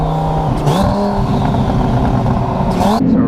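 A 1300-horsepower twin-turbo Audi R8 revs hard on its first acceleration pull, the engine note climbing loud and close with a couple of gear changes that dip and rise again, and a voice briefly heard over the roar.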